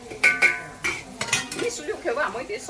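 A wok and metal utensils clank and scrape over high heat while cooking lobster: a quick run of sharp clinks and knocks, close and fairly loud, with some stirring scrapes.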